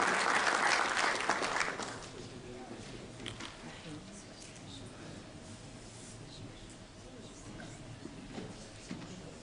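Audience applause at a language conference fills the first two seconds loud and dense, then drops away to a quieter room murmur with faint scattered sounds.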